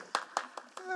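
Brief scattered hand claps sound at a city council meeting, four sharp claps spaced across a second, fairly faint, with a voice speaking near the end.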